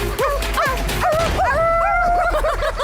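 A dog yips and whimpers in quick high-pitched bursts, then lets out drawn-out whining cries, loud and close against a low background hum.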